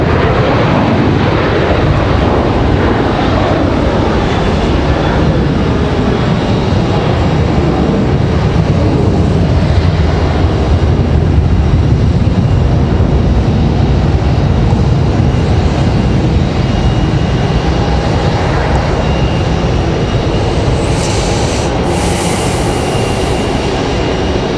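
A heavy United Airlines airliner takes off at Raleigh-Durham, its loud, broad engine roar sustained and steady throughout, with a brief hiss near the end.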